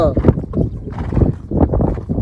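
A horse (a mare) approaches with a steady clip-clop of hooves, partly masked by someone talking continuously over it.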